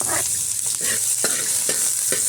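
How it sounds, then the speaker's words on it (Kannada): Mustard seeds, a dried red chili and curry leaves sizzle and crackle in hot oil in a pan, a loud close frying hiss with quick spattering pops as the spoon stirs. "ನಾನು ಸಾಸಿವೆ ಹಾಕ್ಕೊಳ್ತಾ ಇದ್ದೀನಿ, ಒಂದು ಒಣಮೆಣಸು ಹಾಕ್ಕೊಳ್ತಾ ಇದ್ದೀನಿ, ಮತ್ತು ಕರಿಬೇವು ಹಾಕ್ಕೊಳ್ತಾ ಇದ್ದೀನಿ."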